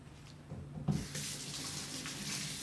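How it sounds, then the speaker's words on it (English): Kitchen tap turned on for a quick hand wash during meal prep, water gushing steadily into the sink after a brief clunk of the handle, close and moderately loud with no talking. "Wash my hands off real quick."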